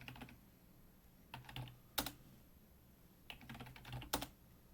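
Faint bursts of keystrokes on a computer keyboard as a password is entered during a Windows 11 setup, with short clusters of taps separated by pauses.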